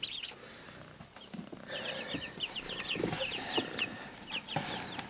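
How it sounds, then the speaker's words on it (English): Several Silkie chickens cluck and chatter nearby, soft repeated calls layered over light background noise, with one bird's rapid trilling clucks standing out. "So there's the Silkies."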